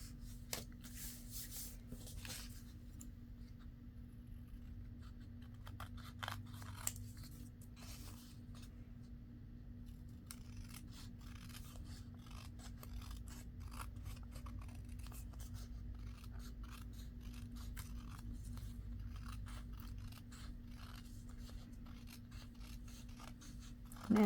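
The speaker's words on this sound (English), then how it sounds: "I was cutting something and I like using my smaller scissors better" Small scissors snip through paper while making envelope belly bands, giving a long run of quick, close, dry cuts in irregular bursts over a faint steady hum.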